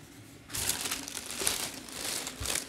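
Medicine packaging crinkles and rustles in a few close bursts, loud against a quiet indoor room, with a short pause before a final burst.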